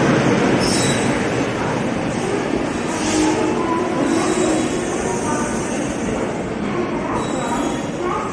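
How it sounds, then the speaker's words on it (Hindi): Passenger train pulling into a station, a steady loud rumble of railcars with wheel squeal and faint clickety-clack, continuous throughout with station ambience. "यहाँ पर हमारा ट्रेन आते हुए,"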